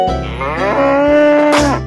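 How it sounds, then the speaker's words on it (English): A cow moos loudly and close, one long sustained low bellow lasting nearly two seconds. "Cow."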